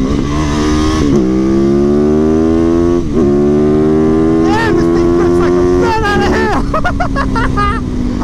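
A Yamaha YZ450FX dirt bike revs and rides off nearby, its loud engine note rising and falling through several throttle blips and gear changes, with voices mixed in underneath.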